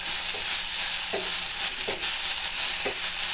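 Red amaranth curry with rock salt, turmeric and ginger-garlic paste fries in a pan with a steady hiss, while a spoon scrapes and knocks against the pan a few times, with no voices.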